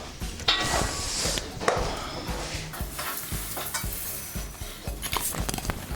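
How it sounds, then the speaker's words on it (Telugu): Ginger garlic paste fries in a pan for a prawns pickle, giving a steady close sizzle with scraping stirs and occasional utensil clinks against the pan. "అల్లం వెల్లుల్లి పేస్ట్ కొంచెం ఫ్రై అయింది."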